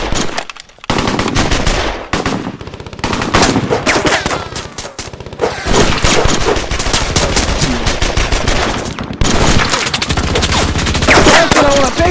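Heavy machine gun fire in a WWII battle in the Ardennes, 1944, hammers almost without pause, loud and close, with bursts overlapping and brief gaps between volleys.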